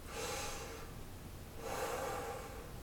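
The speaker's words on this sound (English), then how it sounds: "Just a belly breath." A slow belly breath from a singing breathing demonstration, heard as two soft, airy breath sounds, an inhale and a later exhale, close up with no talking.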